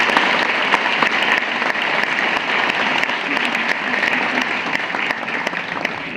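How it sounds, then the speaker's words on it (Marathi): Dense, steady applause from a lavani show audience, loud and continuous without a break. "एका स्त्रीच्या पुरुषत्वासाठी टाळ्या झाल्याच पाहिजे"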